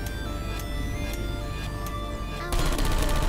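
Turrets firing in the video game Portal 2. A few sharp, spaced shots are followed by a loud, rapid machine-gun burst that fills the last second, with no talk over it.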